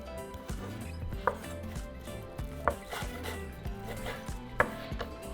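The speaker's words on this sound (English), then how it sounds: "just cut your meat into bite-sized pieces" A knife chops cooked carne asada steak into bite-sized pieces on a board, a steady run of soft close cuts with a few sharper knocks about every second and a half, with background music.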